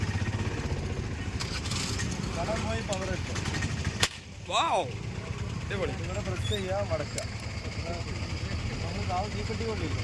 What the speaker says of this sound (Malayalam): തീപ്പെട്ടിക്കൊള്ളി വെച്ച് കാണുന്ന വെടിവെക്കുന്ന തോക്കാണ്